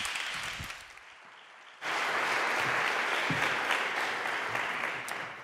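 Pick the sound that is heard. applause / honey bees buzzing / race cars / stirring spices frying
applause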